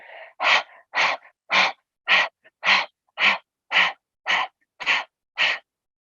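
Ten sharp, forceful panting breaths come at an even rhythm of about two per second during a Kundalini yoga breathing exercise, close and clear with silence between each breath.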